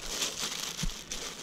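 Plastic packaging around a military M90 rucksack cover crinkles as it is opened, a short, close rustle of soft crackles.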